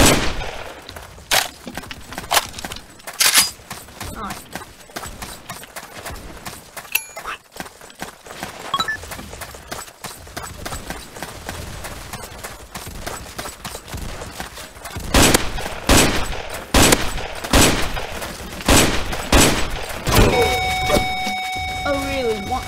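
Gunfire in the Roblox game Ace of Spadez, including sniper rifle shots, heard as sharp bursts and rapid volleys that build in density toward the end, mixed with game noise while a player talks over it.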